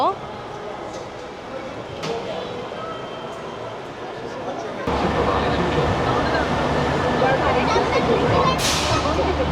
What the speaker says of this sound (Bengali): আমরা এখন এই ট্রেনে করে ডিজনিল্যান্ডের ভেতরে ঢুকছি